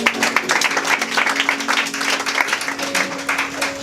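A crowd at a glorious manifestation gathering on 6 August 2017 claps and cheers steadily, a continuous wash of applause with voices mixed in, fairly close and loud throughout.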